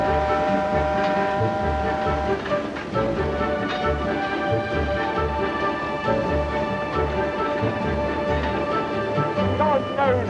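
A steam locomotive whistle sounds in long tones over heavy rhythmic chugging and rumbling, with voices faintly underneath.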